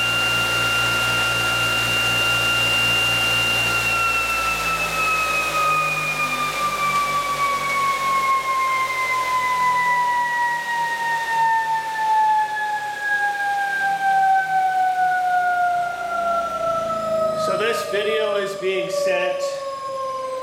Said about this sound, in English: our quantum motor is performing work without externally supplied energy.